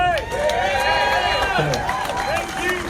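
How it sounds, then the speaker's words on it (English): A crowd at a rally in Vancouver applauds and cheers, with whoops and calls rising over the clapping for a few seconds. "Let's applaud that bravery that's to follow."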